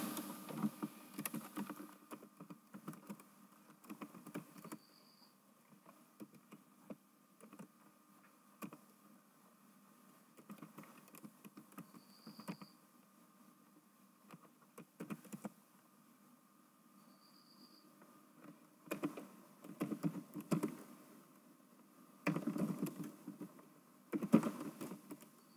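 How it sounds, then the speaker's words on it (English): Code being typed on a computer keyboard during a Windows 10 CodeBlocks setup, heard as steady runs of soft key clicks broken by short pauses, with louder flurries of keystrokes toward the end and no talking. "I'm going to type a code here."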